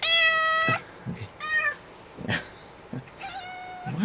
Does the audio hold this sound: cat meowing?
yes